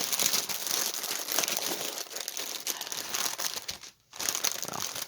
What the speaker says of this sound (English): Let me get this next one out of plastic.